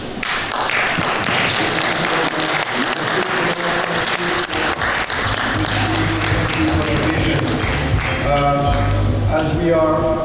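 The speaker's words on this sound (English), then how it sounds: "please give a round of applause to all of our speakers" Loud, sustained audience applause in a large summit plenary hall, a dense wash of clapping that continues throughout while voices and a faint musical tone rise underneath toward the end.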